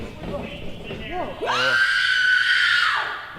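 A woman screams in a loud, sustained high shriek lasting about a second and a half, preceded by short excited vocal bursts and a crowd or commentary-like voice, during a professional wrestling match broadcast.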